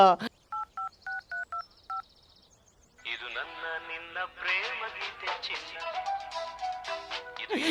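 A quick series of telephone keypad tones is followed by a pause, then a voice speaks over faint background sound.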